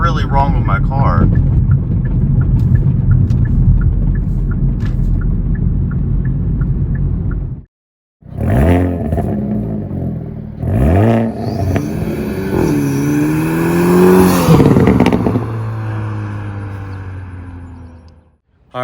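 A Hyundai Elantra N engine runs loud and steady with a rough, abnormal rumble, cuts out abruptly, then restarts in uneven surges and revs, with a voice speaking over the later part.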